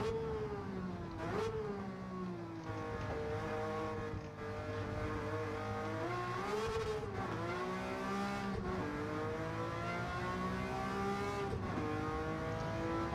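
Race car engine in a racing video game revving steadily and loudly throughout, its pitch rising and falling with gear changes and throttle, with no talk over it.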